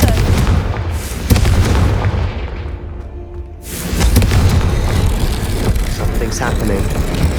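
A Confringo blasting spell goes off in Hogwarts Legacy: loud, dense booming bursts fill the opening seconds, dip briefly, then a renewed explosive blast and rumbling debris carry through to the end.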